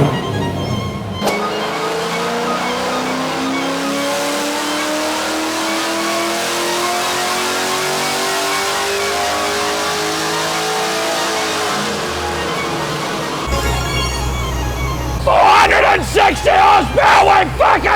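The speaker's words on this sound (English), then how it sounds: "without the cats and the cam installed, this exhaust is fucking loud" A cammed V8 ute with its catalytic converters removed revs hard on a dyno, the loud exhaust sweeping steadily upward in a long sustained pull before dropping off, followed by a burst of shouting voices.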